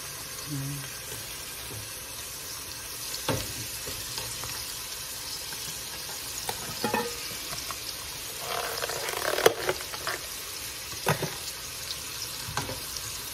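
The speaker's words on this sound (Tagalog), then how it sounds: "Lagyan na po natin ng bawang para po mabango" Garlic sizzles and fries in a hot pan, a steady crackling hiss with occasional stirring clinks and scrapes, close and moderately loud.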